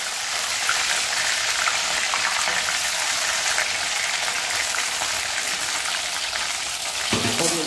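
Beans fry in a small amount of oil in a kadai, giving a loud, continuous crackling sizzle that holds steady throughout, with a faint clink near the end and no talking.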